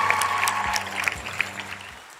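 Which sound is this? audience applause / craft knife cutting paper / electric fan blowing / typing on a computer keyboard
audience applause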